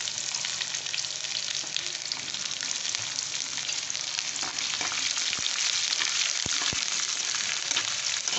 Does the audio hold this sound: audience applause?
no